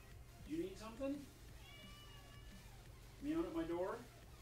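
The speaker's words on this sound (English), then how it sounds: "Meow at my door?" A cat meowing at a door, two or three drawn-out, fairly close meows separated by pauses, over a quiet room hum.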